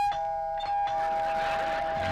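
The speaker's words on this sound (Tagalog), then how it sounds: "Ano yan? Doorbell." A two-tone electronic doorbell chime rings out clearly, a couple of bright notes sustaining and fading, with no talking over it.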